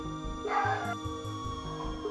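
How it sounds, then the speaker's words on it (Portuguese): Dogs bark repeatedly in short, uneven bursts, moderately loud and a little distant, over a steady background hum. "Peço desculpa pelos cachorros latindo"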